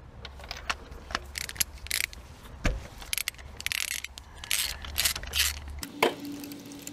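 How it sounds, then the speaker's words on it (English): A hand ratchet clicks in rapid bursts while removing spark plugs from the engine of a Ferrari F355 Berlinetta replica built on an MR2, close and sharp, with metallic tool clatter and a steady low hum throughout. "we can remove the plugs"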